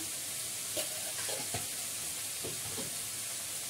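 Spices sautéing in a pan, a continuous sizzle with a few scraping stirs of a spatula, close and steady with no voices.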